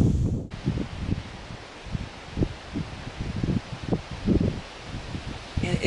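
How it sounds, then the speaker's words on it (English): Wind gusting at a lakeside campsite on a solo canoe trip, rustling leaves and low buffeting against the microphone in uneven surges, with no talking. "And it has just been windy and blowing the whole time I've been laying here doing a little slumber."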